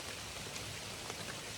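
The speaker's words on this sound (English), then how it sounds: "you can probably hear it, but it's raining a little bit" Light rain falls steadily around a treetop hunting stand on public land in the morning, a soft continuous hiss with a few faint drop taps and no voices.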